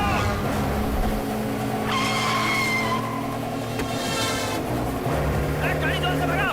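A car tearing through a chase in a Hindi-dubbed action film, engine roaring loud and close while tires squeal and skid in repeated bursts.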